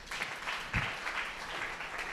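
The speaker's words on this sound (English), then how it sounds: "please give Comrade Frank Ehiosu a round of applause." A crowd applauding steadily at a secondary school debate, dense overlapping hand claps at an even level throughout, sounding like a room full of people.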